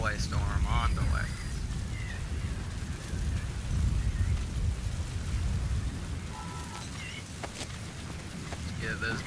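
A storm in Metal Gear Solid 5: steady rain hisses throughout with low rolling thunder swelling in places, while a voice talks over it and small game tones blip now and then.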